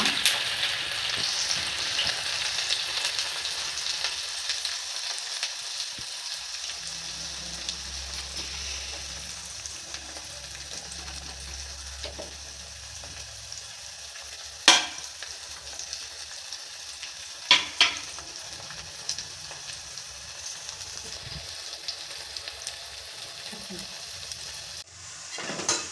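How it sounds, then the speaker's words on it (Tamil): Chopped onions sizzle in hot oil with popped mustard seeds for an ennai kathirikkai tempering, a steady broadband hiss with a few sharp scraping clacks of the stirring spoon against the pan, fairly close and without speech. "வெங்காயம் இந்த மாதிரி நல்லா கலர் சேஞ்ச் ஆகிற வரைக்கும் நல்லா தாளிச்சுக்கோங்க."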